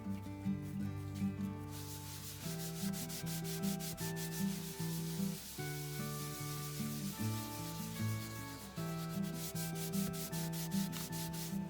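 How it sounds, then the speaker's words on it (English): Leather dyed with water-based dye is buffed with a cloth, producing steady back-and-forth rubbing strokes at close range over continuous background music. "And so I buff it until it comes away clean."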